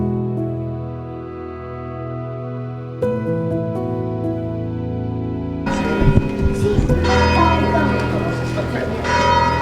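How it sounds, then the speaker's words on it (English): A church bell rings with long sustained tones near Lake Garda or San Marino, the ringing growing louder and denser partway through, with some background noise. "now you can hear the bell. You don't just see the bell, you can hear the bell."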